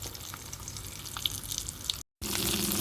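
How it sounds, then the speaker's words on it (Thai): Mackerel fries in hot oil with a steady, close crackling sizzle and scattered pops, broken by a brief silent cut before the sizzling resumes. "ปลาทูทอด"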